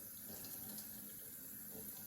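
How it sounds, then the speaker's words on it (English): A little water runs in a soft, steady trickle into hummus, faint and continuous, with no voices. "I'm going to add a little bit of water."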